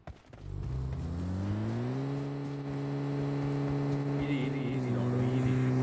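A vehicle engine in a competitive shooter video game, a steady loud droning hum that rises in pitch as it accelerates and then holds at a constant revving tone, heard close with no talking.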